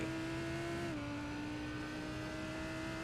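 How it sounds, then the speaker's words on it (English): A Lamborghini GT race car in the iRacing video game at Long Beach holds a steady, loud engine drone, with one quick drop in pitch as it shifts gear. "that Lamborghini is just an absolute beast of a car. The sounds are incredible."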